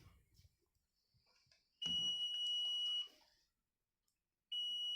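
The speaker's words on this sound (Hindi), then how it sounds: "जब हम इसको आपस में कनेक्ट करेंगे तो this is called beep point." A digital multimeter on continuity mode gives a steady high-pitched beep lasting about a second as the probes touch, then falls silent and sounds again briefly; soft handling noises come before it.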